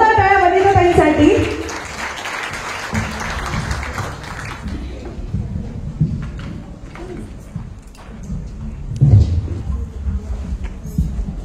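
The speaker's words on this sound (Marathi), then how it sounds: "जोरदार टाळ्या वनिताताईंसाठी." A stage audience gives loud, dense applause to welcome a woman named Vanitatai. The clapping swells at the start, then thins out after a few seconds into quieter room noise with faint scattered sounds.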